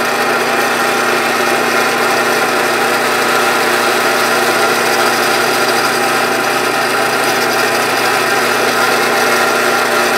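A power drill boring a 9/64 hole through a short wooden dowel gives a steady high-pitched whine that runs unbroken throughout, loud and close.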